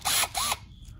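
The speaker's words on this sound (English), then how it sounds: "I will drill a hole through the bracket into the frame" A power drill whirs in two short, high-pitched bursts close by, spinning up and stopping as it drills through a metal bracket into a vehicle frame, followed by quiet.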